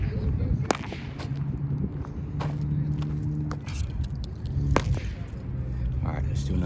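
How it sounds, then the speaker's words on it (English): Bottle rocket fireworks are set off outdoors, giving a few sharp cracks and snaps at a middle distance over a steady rumble of background noise, with people talking nearby. "let's do another bottle rocket"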